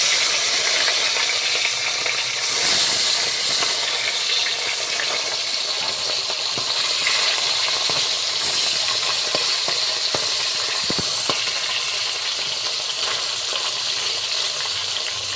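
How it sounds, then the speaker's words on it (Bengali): Bata fish frying in hot mustard oil, a steady loud sizzle and crackle throughout with occasional sharp pops and spatter, no talking. "আমাদের মাছ কিন্তু এখন সর্ষের তেলে চলে যাচ্ছে,"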